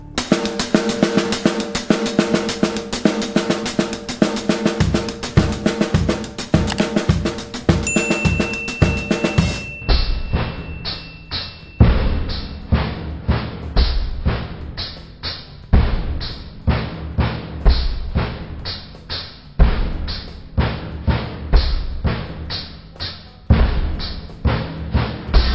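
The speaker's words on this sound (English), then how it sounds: "starting with the hands only and then adding in the foot would sound like this" Drum kit working through a polymetric paradiddle exercise, hands alone at first and then a kick drum added on each downbeat; steady, dense sticking rings out loud and close, with the low thump joining partway through and no talking.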